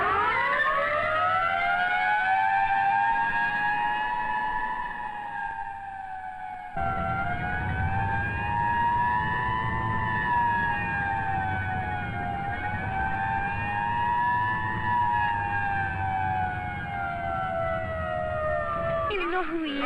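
An ambulance siren wails in the film Cipher in the Snow, a loud rising-and-falling tone with strong harmonics sweeping slowly up and down, briefly cutting and resuming, over a low background rumble.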